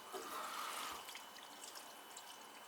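Water trickles and splashes through an old, rotted cast iron drain pipe in an old house, a steady faint broadband wash with small drips and spatters, no voices.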